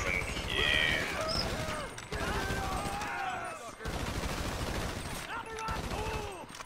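Shotguns firing in GTA, with repeated loud blasts and mechanical clacks running through a steady barrage of game noise, and a voice talking over the action.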